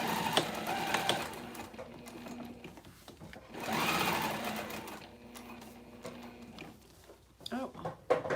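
A home sewing machine stitches in steady mechanical bursts, its whirring rising and falling as it starts and stops, with someone talking softly over it.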